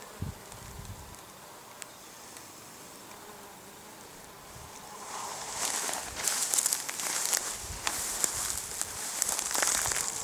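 A bee crawls over lungwort flowers in the wild steppe, giving a faint close buzz and soft rustling that swell in the second half, with crackly contact sounds over an outdoor background.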